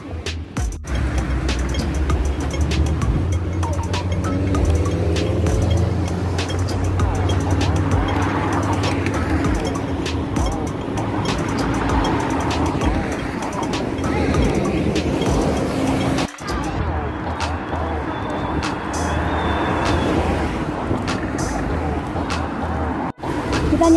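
Cars and other road traffic rumble past continuously on a road in Hong Kong while pedestrians wait to cross, engines swelling and fading nearby with occasional voices mixed in.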